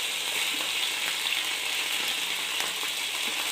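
Ginger garlic paste fries in hot oil in a pan for a vegetable curry, giving a bright, steady sizzle with small crackles and faint stirring throughout, close and without talk.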